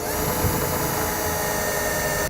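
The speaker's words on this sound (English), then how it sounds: "And then we'll secure it using a self-tapping screw" A power driver whirs steadily while sinking a self-tapping screw into a Solera awning rail extrusion, a continuous close motor drone with a slight bump near the start and no talk.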